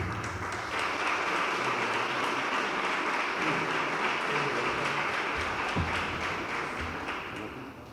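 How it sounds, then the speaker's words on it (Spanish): Audience at a Pride Day conference talk applauds the speaker, a steady, fairly even wash of clapping from a large room that continues throughout and fades slightly at the end. "Fuerte aplauso."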